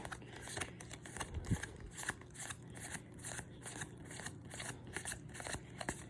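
Flesh and Blood trading cards are counted by hand, producing a quick, faint, irregular run of soft card flicks and snaps close by.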